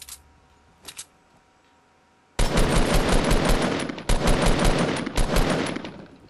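Assault rifle gunfire in Fortnite: after a couple of faint distant pops, loud rapid automatic bursts break out in three long strings separated by brief pauses.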